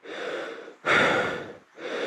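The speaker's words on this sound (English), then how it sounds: "you'll probably hear me breathing on this camera" Heavy breathing close to the microphone from a rider trying hard enduro motorcycling, with long rasping inhales and exhales in a slow rhythm and brief pauses between breaths.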